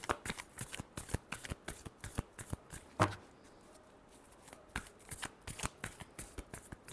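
A deck of tarot cards shuffled by hand: a close, quiet run of fast riffling flicks and soft slaps, briefly pausing near the middle before the rapid shuffling resumes, with no speech.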